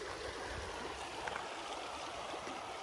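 The Ashley River flows in a steady, faint wash of running water, a continuous hiss-like stream outdoors on an early morning, with no voices over it.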